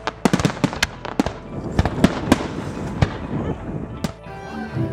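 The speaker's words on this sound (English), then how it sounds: "Some of the other key events include a fireworks display" Fireworks pop and crackle in a rapid, irregular string of sharp bangs at a spring festival display on the Southwest Waterfront during the National Cherry Blossom Festival, ending in a trailing crackle.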